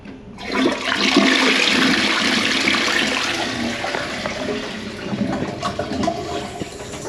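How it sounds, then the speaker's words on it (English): A toilet flushes after its water system has been refilled, a loud rushing swirl of water that surges up quickly and then slowly tapers into a steady trickle and refill hiss, close by with no talk. "Let's give it a flush."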